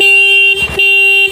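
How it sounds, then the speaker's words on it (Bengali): Two loud, steady blasts from a Bajaj Pulsar NS motorcycle horn sound up close, each a flat electric tone, separated by a short gap filled with brief engine noise. "একটু হর্নটা মারো দেখি, হর্নটা কেমন শুনি।"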